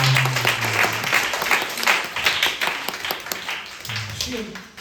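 Clapping from a congregation at a Korean church high-school Sunday worship service, a dense ripple of hands while people's voices carry over it in places.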